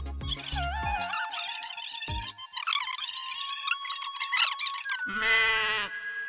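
A goat bleats repeatedly, with several wavering, nasal cries in quick succession and a final long, loud bleat. The sound is close and clear, with no talk over it.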